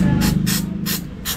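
Aerosol spray hitting a rusty starter solenoid in four short, even bursts of hiss over a low steady hum, close and fairly loud.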